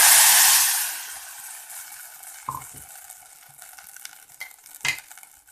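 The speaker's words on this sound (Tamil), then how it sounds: "இப்போ கடுகு எல்லாம் பொரிஞ்சிட்டு கொஞ்சம் கருவேப்பிலை போட்டுக்கிறேன்" Mustard seeds and curry leaves sizzle loudly in hot oil, the hiss easing off as a spoon stirs and clinks against the pan, with masala nearby.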